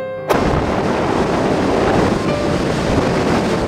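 Niagara Falls pouring water at peak season, a loud, continuous broadband roar that begins abruptly and holds steady without a break.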